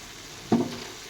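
Ghee hitting a hot pan of frying ridge gourd, a single short sizzling burst that quickly settles into a faint crackle.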